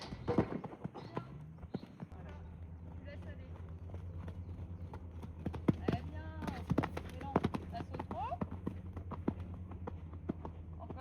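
Horse hooves during a show-jumping lesson, working at trot and canter in an arena: rhythmic clip-clop beats run steadily through the clip, with a steady low hum beneath and someone talking over much of it.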